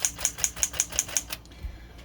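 Rapid keystrokes on a vintage Smith Corona manual typewriter with a spacing fault, seven crisp metallic clacks in an even quick rhythm, then a faint trailing clunk.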